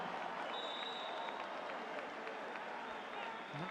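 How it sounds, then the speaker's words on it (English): A home crowd at a professional basketball game, Avtodor against Pinar Karsiyaka, sends up a steady, distant roar of cheering and applause that holds evenly throughout, with no talk over it. "That call gets a big cheer from the home crowd."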